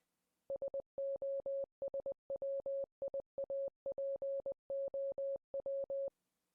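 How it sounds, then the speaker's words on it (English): Morse code beeps spelling out a message, a steady mid-pitched electronic tone switching rapidly between short and long pulses in quick clusters, clean and alone. "creating her own message in Morse code"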